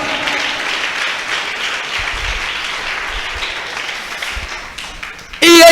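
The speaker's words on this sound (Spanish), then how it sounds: "Aleluya, dele fuerte esas palmas" A church congregation clapping during a worship service, a dense steady wash of hands lasting several seconds, fairly soft and even, ending as a voice abruptly starts.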